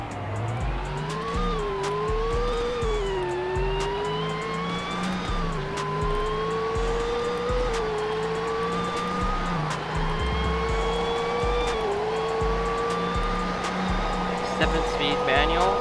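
A turbocharged car with four exhausts accelerates hard in a Roblox speed test, its engine climbing in pitch again and again through gear shifts as a steady loud whine, with game music thumping beneath.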